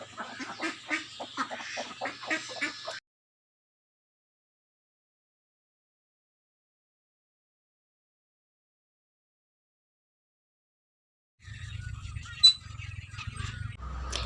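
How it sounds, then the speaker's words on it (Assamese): Ducks and chickens in a backyard farm pen in rural Assam give a burst of quacking and clucking, then a long silence, then another honking, clucking stretch near the end. "এয়া হাঁহ, কুকুৰা, গৰু, ছাগলী।"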